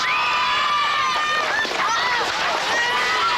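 Crowd at a 1996 Rallye des Géants finish ramp in France cheering and shouting continuously at close range, a dense roar with whistles and excited voices throughout.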